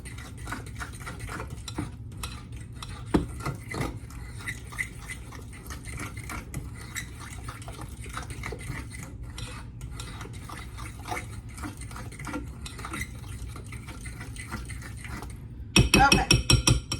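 Muffin batter being stirred by hand with a utensil after a half cup of Gatorade reduction goes in, a steady soft scraping and sloshing against the bowl that runs throughout, ending in a brief louder clatter.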